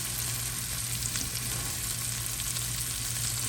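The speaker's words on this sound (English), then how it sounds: "So we're going to get them all in the pan. Get those lamb chops going." Lamb chops frying in a pan, giving a steady, even sizzle that holds at the same level throughout with no talking.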